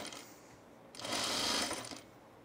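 A sewing machine runs one short burst of about a second while top stitching a men's shirt, a close mechanical whir between quieter pauses.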